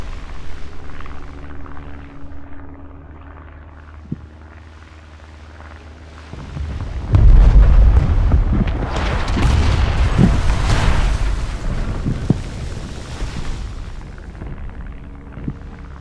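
Anti-aircraft gunfire and explosions from War Thunder Mobile, heard as a low rumbling battle din that swells into a heavy, sustained boom and roar before easing off, with scattered sharper shots.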